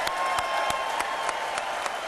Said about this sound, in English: A big round of applause as the governor is being introduced right there.